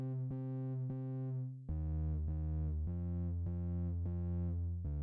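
A quiet, heavily distorted synth bass layer plays solo in a pop track, with a sustained buzzing harmonic tone that shifts pitch in repeated held notes, light on deep low end and heavy in the low mids.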